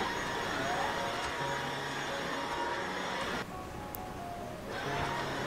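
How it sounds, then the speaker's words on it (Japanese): A vacuum cleaner runs over a home floor in a steady whooshing hum, briefly dropping in strength near the end before resuming. No voices are heard. "毎朝の掃除は掃除機をかけてソファーカバーを整えるくらいです。"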